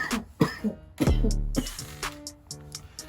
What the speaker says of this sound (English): I swear I was holding my cough that whole intro